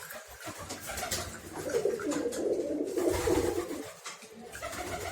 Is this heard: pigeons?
yes